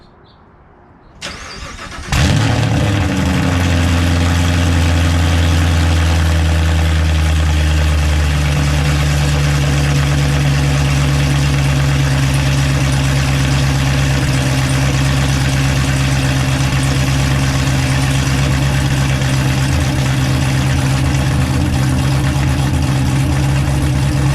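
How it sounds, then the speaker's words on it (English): A 2020 Camaro ZL1 1LE LT4 engine with Kooks long tube headers cranks and fires, then settles into a loud, deep, rumbling idle that runs steadily without talking. "we're just gonna turn it on, give you guys a little sound clip of how it sounds"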